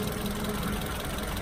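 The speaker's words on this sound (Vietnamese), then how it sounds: "Máy nổ rất êm này" Toyota Vios 2012 E sedan with its engine idling, a steady, even low hum with faint mechanical ticking, close and continuous with no talk.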